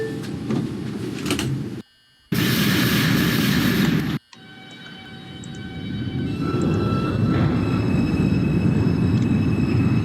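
NYC Subway R142 5 train in the OpenBVE simulator, running with a steady mechanical rumble and hum, two sudden dropouts early on, then a rising drone as the train picks up speed, no voices.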